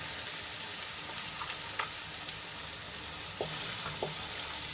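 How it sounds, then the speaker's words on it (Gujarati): Chopped onion fries with ginger, garlic and chili paste in a pan, giving a constant loud sizzle with a few light scrapes and clicks of stirring. "ડુંગળીને આપણે લાલ થાય ત્યાં સુધી અને ફ્રાય કરી લઈશું"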